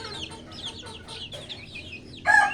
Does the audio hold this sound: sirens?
no